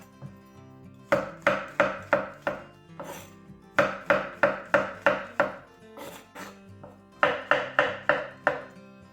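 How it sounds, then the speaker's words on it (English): A knife slices button mushrooms on a board in three quick bursts of sharp, evenly spaced chops, five or six strokes each, with short pauses between the runs. "So we'll get these sliced up."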